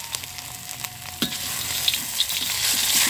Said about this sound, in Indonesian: Lanjut sekarang goreng ikan asin ya.